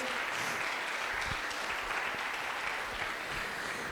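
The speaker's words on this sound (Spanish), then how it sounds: "Vamos a dar un aplauso a Dios." Church congregation applauding during a worship service, a steady wash of clapping heard at a moderate distance, continuous for a few seconds without speech.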